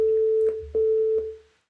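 A pure sine tone from a web browser oscillator holds steady and loud for about a second and a half, with a few soft clicks partway through, then fades out.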